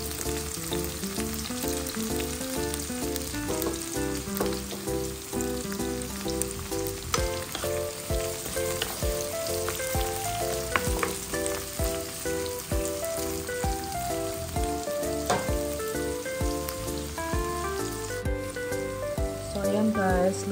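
Tomatoes fry in a pan with a steady, loud crackling sizzle that lasts throughout, mixed with a musical backing track.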